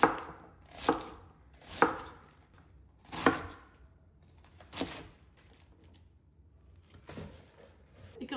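A knife chops Chinese cabbage into chunks for homemade kimchi, about six crisp, separate cuts on a board spaced a second or more apart, close and clear over a quiet background.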